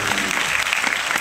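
Applause at a Darul Quran selawat gathering in Kuala Kubu Baru: a brief, dense burst of many hands clapping together, loud and steady throughout with no pause.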